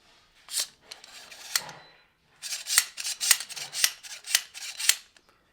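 Handguard scraping and catching against the ASR suppressor mount on a Sig MPX K pistol-caliber carbine, close metallic rasps and clicks, a brief burst, a pause, then a longer choppy run of scrapes.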